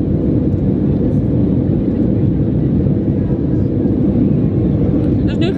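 Steady, loud low roar of a jet airliner cruising, a constant broadband rumble with no breaks, heard from inside the cabin.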